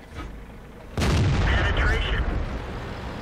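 Cannon shot from a Panther tank in World of Tanks on a forest map, a single close heavy blast rolling into a sustained rumble, with someone talking quietly beforehand.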